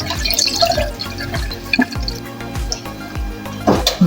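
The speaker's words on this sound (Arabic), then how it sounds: "عم نكب الميات." Water poured into a cooking pot while preparing Lebanese rice pudding, with splashing, dripping pours and clinks of kitchenware, moderately loud and close.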